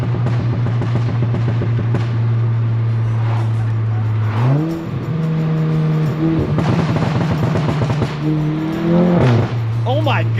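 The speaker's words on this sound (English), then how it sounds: "we'll just hear the car pop" Exhaust of a VW MK7 GTI with a new downpipe revving up and down near the cabin, crackling pops and bangs on lift-off over a steady drone, with a few exclamations in the car.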